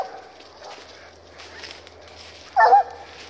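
A black and tan coonhound on a night coon hunt gives a single short bark close by, following quiet rustling and faint footsteps.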